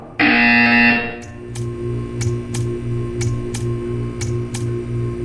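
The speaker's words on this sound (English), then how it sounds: "When you hear the buzzer, stare at the art." A loud buzzer from the Portal 2 video game blares for about a second, then a steady faint ticking with a low hum carries on alone.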